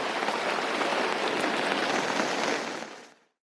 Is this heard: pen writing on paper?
no